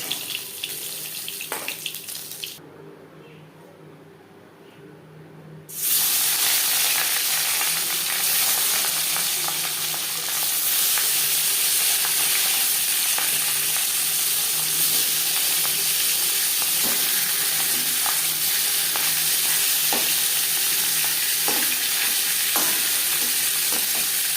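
Katla fish heads frying in hot oil make a continuous close sizzle with occasional spatters and stirring clinks, cut by a brief quieter stretch before the loud frying resumes.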